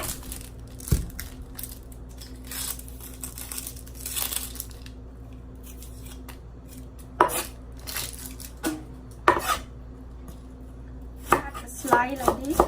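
A knife slicing red onion on a cutting board for a Lao tofu salad, with crisp chopping strokes in uneven bursts, close and fairly loud, with no talk.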